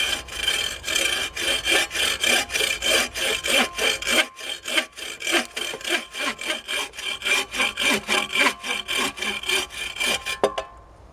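A Bob Dustrude Quick Buck Saw cuts firewood in quick, regular push-pull strokes, each a loud rasping swish, with about thirty strokes and one short pause early on before the cut finishes.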